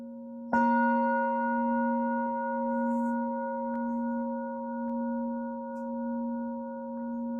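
A single gong stroke during a meditation session rings out clearly, then a pure, steady tone hangs and slowly pulses as it fades over several seconds in a quiet room.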